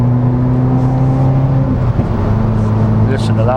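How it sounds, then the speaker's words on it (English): Subaru WRX exhaust on the move, a loud, continuous low drone heard from inside the car that shifts pitch partway through, with a voice coming in toward the end. "Listen to that bubble off the exhaust."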